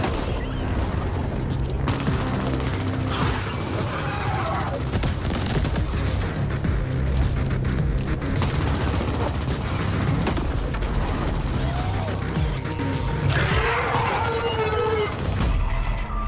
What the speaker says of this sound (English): I wasn't expecting his ass to shoot rockets.